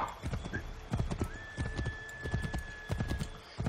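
Rapid hoofbeats of a galloping horse in Assassin's Creed 3 Remastered, a steady clip-clop rhythm close by, with a faint high tone running underneath.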